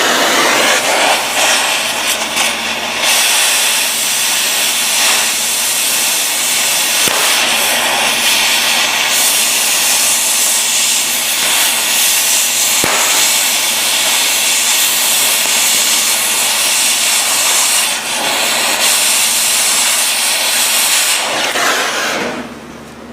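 A cutting torch slices through a U-joint with a loud, continuous roaring hiss held close for over twenty seconds, with slight surges and dips in intensity.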